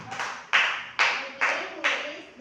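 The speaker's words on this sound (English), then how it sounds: "Let us give group 1 5 clap." Five rhythmic group claps in a classroom, a class giving a unison clap for a presenting group, each burst sharp and evenly spaced about half a second apart, fairly close and moderately loud with no talking over them.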